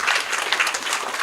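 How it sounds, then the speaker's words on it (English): A conference audience claps for a panel discussion, a brief, dense burst of many hands heard fairly close, with no voices over it. "Let's give a round of applause for our panelists"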